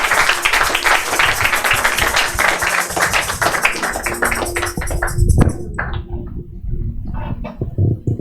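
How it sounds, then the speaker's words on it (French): A church congregation claps for Jesus in steady, dense rhythmic applause, loud and close, thinning out toward the end with scattered claps remaining. "Clap for Jesus."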